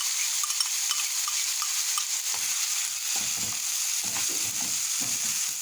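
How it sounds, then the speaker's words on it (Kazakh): Rice for Turkish-style pilaf fries in a pan over moderate heat, giving a constant close sizzle. Repeated scraping stirs grow more frequent in the second half. "Жақсылап қуырамыз"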